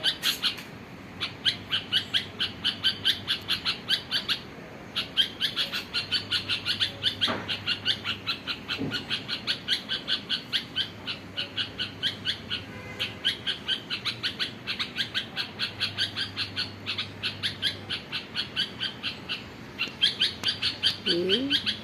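Birds calling near their nest: rapid, repeated chirps from close by form a steady pulsing series for over twenty seconds, with a few faint background sounds underneath.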